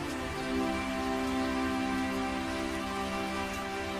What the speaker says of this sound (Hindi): अचानक बारिश शुरू हो जाती है